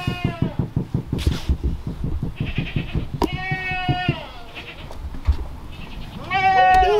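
Several Kiko goats bleat close by, one after another in wavering calls, with a rapid rhythmic thumping underneath at the start.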